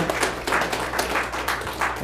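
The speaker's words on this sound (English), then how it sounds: "I don't appreciate the applause and everything in council" An audience in a city council meeting claps in an uneven patter, a short burst of applause that stays fairly close and loud without any talk.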